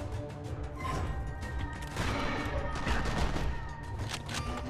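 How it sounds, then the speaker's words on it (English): Gunfire from a sniper rifle in the online arena battler Battlerite, a loud run of sharp cracks and impacts blended with game effects and steady background music, with no clear gaps between the hits. "It stuns with my sniper rifle too though"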